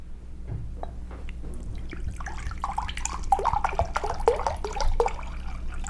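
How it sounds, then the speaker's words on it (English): Spring water poured into a cup, a close trickling and splashing stream that builds and grows louder toward the end, with no talking over it. "We start with a cup of spring water."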